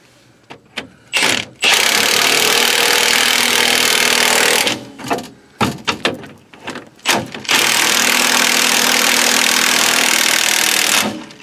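An impact wrench hammers ball joint bolts tight on a 1995-2004 Toyota Tacoma front suspension, loud close bursts: several short rattling blips, then two long sustained runs of ugga-dugga hammering.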